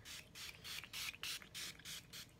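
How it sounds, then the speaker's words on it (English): Coconut rose hydrating face mist sprayed in a rapid series of about eight short pumps, each a close, breathy hiss in an even rhythm with brief gaps, no talking. "This is the Pearlescence Coconut Rose Hydrating Face Mist."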